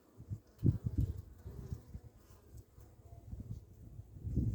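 Honey bees buzzing on a hive frame in winter in Adana, a faint, uneven low hum with soft bursts and rustles close by.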